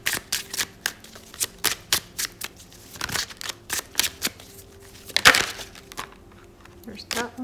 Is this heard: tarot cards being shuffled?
yes